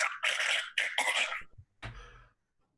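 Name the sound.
person imitating a loud coughing hack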